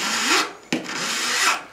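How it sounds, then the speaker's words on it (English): Hand file rasping across jewelry metal to make a flat spot for attaching tubing, two long close strokes with a short sharp pause between, no talking. "what we're doing is filing a flat spot to attach the tubing to"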